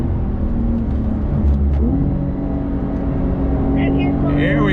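A 2021 Porsche 911 sports car driving hard on a track, engine droning loud and close with pitch drops at gear shifts, and someone talking over it.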